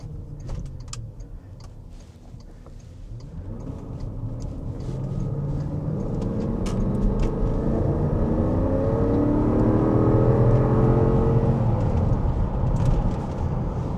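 A 2008 Porsche Cayenne Turbo accelerates hard on the road from inside the cabin, its engine note rising steadily in pitch and loudness over several seconds, with faint rattles and clicks on top.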